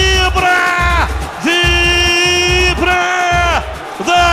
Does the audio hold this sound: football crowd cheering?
yes